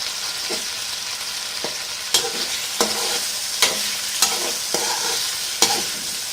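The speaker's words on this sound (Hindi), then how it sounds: "चिकन हमारी पक रही है। कलर चेंज होना स्टार्ट हो गया चिकन का।" Boneless chicken pieces fry in a pan as their colour starts to change, for a chicken bread pocket recipe; a steady close sizzle is broken by sharp stirring knocks about once a second, with no talk.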